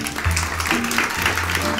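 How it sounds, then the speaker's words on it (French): An audience claps loudly during a light-hearted cooking segment, dense clapping running throughout with low background voices or music underneath. "Si vous trouvez que c'est OK, applaudissez bien fort"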